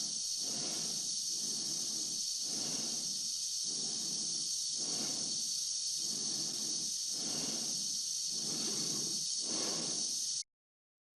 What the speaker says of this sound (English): All you hear is the slow, deliberate breathing of the characters as they move about their languid business.